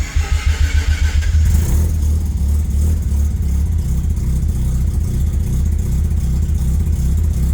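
A Mazda RX7 rotary engine cranks with rapid starter pulses, catches after about a second and a half, then runs loud and close with a steady, slightly choppy idle and no voices.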